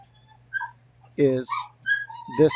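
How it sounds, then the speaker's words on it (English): A dog whimpers and yips in short high whines close by indoors, mixed with a person speaking briefly over a faint steady background hum. "Sorry about the dog."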